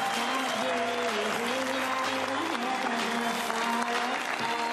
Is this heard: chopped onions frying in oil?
no